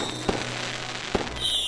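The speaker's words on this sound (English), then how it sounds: "why are fireworks different colors?" Fireworks burst twice at a distance, each a sharp single boom about a second apart, over a faint background hum with no talking.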